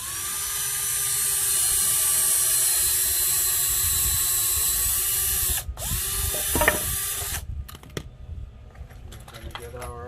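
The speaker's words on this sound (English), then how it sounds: "So I'm going to connect the pieces, so I like to pre-drill." Power drill whirring steadily while pre-drilling wooden pieces for a kayak rack, a sustained whine that stops abruptly, followed by a few clicks and light handling noises.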